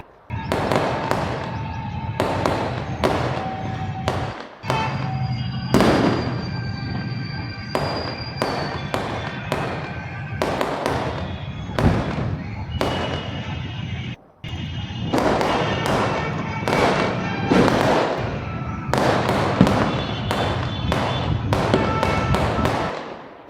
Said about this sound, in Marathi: हे रात्री 12 वाजता फटाकडे वाजलेले आहेत